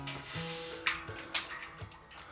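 Thick liquid malt extract for home-brewed beer being poured into a brewing vessel, heard as a soft, steady gurgling flow with a few faint knocks, quiet and close.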